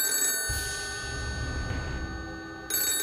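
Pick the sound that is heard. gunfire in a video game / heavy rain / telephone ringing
telephone ringing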